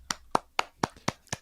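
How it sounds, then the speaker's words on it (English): Six crisp, evenly spaced hand claps ring out close by at a podcast recording, sharp and distinct rather than the wash of a large crowd. "Everyone applaud now."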